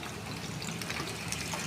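Water goes into a pan of lightly browned onions, giving a dense, even hiss that holds steady throughout at close range.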